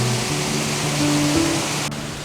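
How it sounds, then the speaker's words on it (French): A waterfall in the Faroe Islands gives a continuous, dense rushing roar that fills the whole clip at steady loudness, with faint low hums beneath. "Cascade qui tombe là encore."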